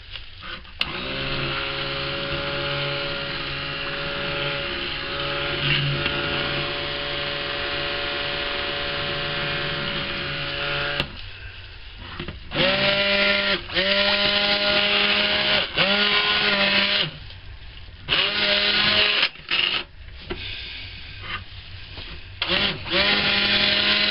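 A stick blender whirs through cold-process soap batter of infused oils and lye solution, a loud steady motor whine running long at first, then cutting on and off in short repeated bursts.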